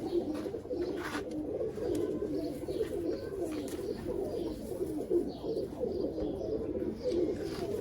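Pigeons kept for sale coo softly and continuously at close range, with overlapping low rolling calls and a few faint chirps in the background.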